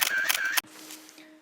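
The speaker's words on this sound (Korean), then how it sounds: "찰칵 소리가 아직도 들리네요." A camera shutter fires in a quick cluster of crisp mechanical clicks during the first half-second, then gives way to a quiet, fading tail.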